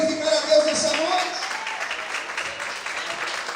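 A church congregation applauds in a steady, moderately loud wash of clapping that slowly eases. A voice speaks over the applause, and a faint sustained tone sits underneath.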